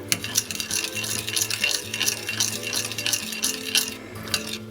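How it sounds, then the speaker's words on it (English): A spoon stirs pork tenderloin seasoning in a bowl, giving rapid scraping and clinking strokes over a steady background hum, with no talking. "stir all this together."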